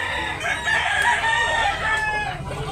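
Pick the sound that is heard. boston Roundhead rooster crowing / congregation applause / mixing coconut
boston Roundhead rooster crowing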